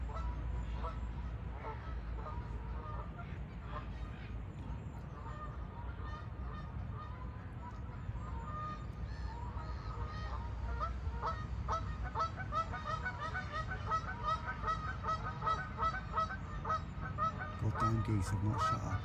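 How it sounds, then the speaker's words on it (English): Geese honk repeatedly at a distance on a misty full-moon morning, their calls overlapping in a continuous noisy chorus that grows busier toward the end over a low rumbling background. "Goddamn geese have not shut up all day."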